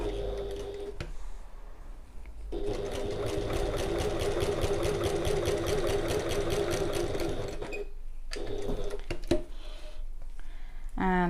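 A domestic sewing machine runs steadily at a lengthened stitch, sewing about 3 mm from the edge of navy fabric on a passport folio, its rapid mechanical chatter continuing for several seconds after a brief pause, then stopping and restarting with short bursts.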